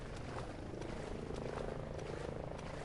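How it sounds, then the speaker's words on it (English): Helicopter reinforcements flying in during a Ghost Recon Breakpoint match, a steady rotor and engine drone holding at moderate level throughout, with no talk over it. "And then obviously there's helicopters that will come in,"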